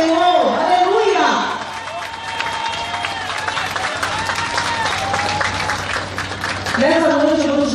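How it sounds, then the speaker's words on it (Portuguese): A church congregation in Brasília applauds together, a broad wash of clapping and crowd noise that holds steady for several seconds between bursts of a preacher's amplified voice at the start and end. "Dá um minuto de aplauso para o Senhor"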